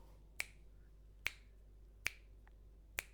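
Four crisp finger snaps spaced roughly evenly apart, close and distinct against a quiet room hum with no talking.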